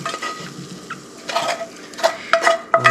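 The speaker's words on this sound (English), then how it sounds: "Now just stir all this together" Food stirred together in a pan with a utensil, giving irregular scraping and clinking strokes against the metal over a soft background sizzle, several louder scrapes toward the end.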